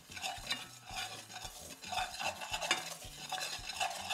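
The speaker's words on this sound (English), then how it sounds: "We're also gonna add in some salt, a little bit of olive oil, mix this." Potatoes being tossed with za'atar, salt and olive oil, giving a rhythmic series of wet scraping and shuffling strokes with a light sizzle, close and moderately loud, no speech.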